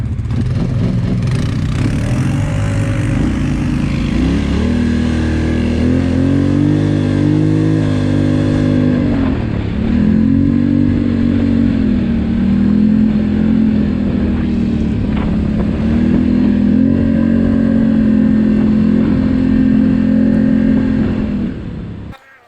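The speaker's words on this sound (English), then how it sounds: "You gotta love the sounds of the Sportsman 1000 engine." A Polaris Sportsman 1000 ATV engine revving and droning continuously on a winter trail, pitch rising and falling in repeated surges, loud and close.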